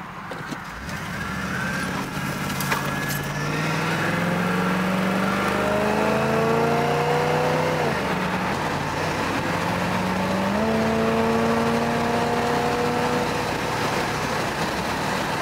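A 1984 Pontiac Firebird Trans Am drives steadily down the road from inside the cabin, its engine note rising and shifting through gears as it accelerates, a continuous moderately loud drone with no talking.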